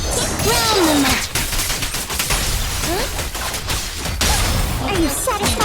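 Fireworks burst in Zenless Zone Zero, a dense rapid volley of cracks and bangs with whistling streaks, loud and continuous, while voices shout over them.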